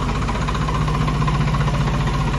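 A Farmtrac 60 tractor diesel engine idles loudly and close, with a steady low rumble and rhythmic knocking pulse throughout and nobody speaking.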